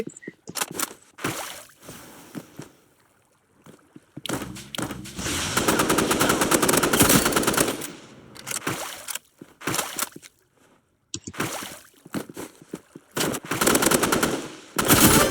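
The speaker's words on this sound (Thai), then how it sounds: "ฟังเสียงสไนมาแต่ไกลเลย" Rapid gunfire bursts in the Roblox first-person shooter Rivals, with loud clusters of shots separated by short pauses and one longer sustained volley midway.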